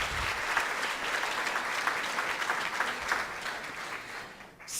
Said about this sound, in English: And round of applause for all of you and for all the groups.